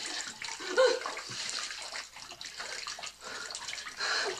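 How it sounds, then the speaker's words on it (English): Water rushing in and rising as a radio drama sound effect, a continuous churning wash with surges and swirls, fairly faint and steady throughout. "The water's just gonna rise."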